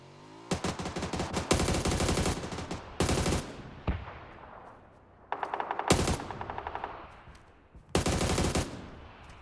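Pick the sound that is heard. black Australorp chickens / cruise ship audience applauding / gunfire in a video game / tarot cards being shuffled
gunfire in a video game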